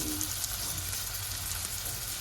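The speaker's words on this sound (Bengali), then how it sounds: "ভালো করে পেঁয়াজ পুরো একদম ভাজা হয়ে যাবে" Steady, dense sizzling of onions frying with chili powder, cumin and salt in a hot pan, continuous and even with no voices.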